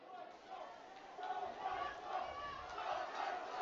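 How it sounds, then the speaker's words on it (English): Spectators at a women's national championship rugby match between Queen's and UVIC, a distant crowd roar that swells and grows louder across the stretch, with faint shouts mixed into the broadcast ambience. "Crowd is getting louder."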